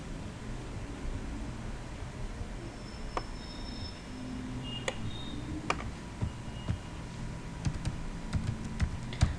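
Fingers tap away on a computer keyboard while entering code, a steady run of light clicks that grows busier and sharper toward the end over a low room hiss, with no talk.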